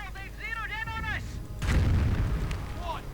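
Artillery fires in a 1v1 war video game, a heavy low boom swelling into a rumbling roar, preceded by warbling, whistling tonal game effects.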